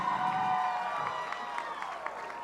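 Audience at a charity dancing event applauding and cheering a pair of dancers, a crowd roar with scattered claps over a musical tone, dense and fairly loud, with voices mixed in.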